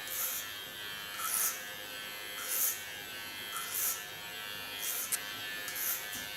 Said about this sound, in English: taking my large flat comb and my large sciona clipper and create a nice short side